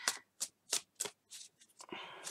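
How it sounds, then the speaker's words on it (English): Everyday Witch Tarot cards are shuffled close by in a run of about five crisp riffling bursts at a regular rhythm, then a longer rustling slide of cards at the end. "I'm just going to shuffle the Everyday Witch Tarot cards."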